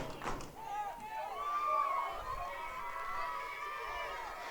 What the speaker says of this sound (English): And the crowd is loving it.